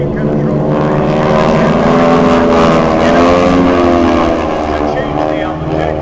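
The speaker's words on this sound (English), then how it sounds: "This is the barrel roll" Piston aerobatic airplane of the Aeroshell Aerobatic Team performing a barrel roll at the 2010 Vectren-Dayton Air Show, its engine droning loud and steady with a rising and falling harmonic pitch as it maneuvers overhead, under crowd and announcer ambience.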